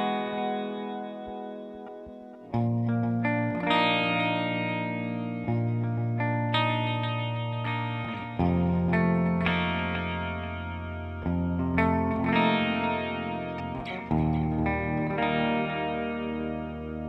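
Electric guitar played through a Cuvave Cube Baby multi-effects pedal with delay added, chords and melodic notes ringing out with repeating echoes and a chorused, slightly distorted tone, loud and steady throughout with no talking.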